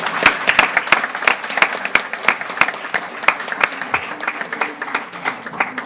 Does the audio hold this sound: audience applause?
yes